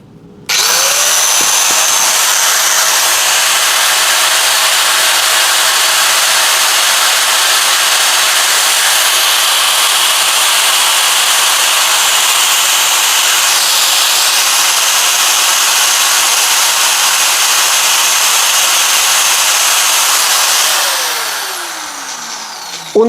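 A Bosch GWS700 angle grinder spins up and runs at a steady, loud high-pitched whine for about twenty seconds before winding down. No one speaks.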